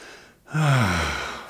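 A slow, deep belly breath, one long audible voiced exhale like a sigh after a brief pause, close to the ear and fading gently.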